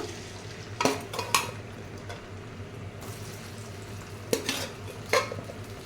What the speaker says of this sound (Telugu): ఇప్పుడు మనము ఉప్పు పసుపు వేసి మనం ఇప్పుడు బాయిల్ చేసి పెట్టుకున్న చికెన్ ముక్కలు వేసేస్తున్నాను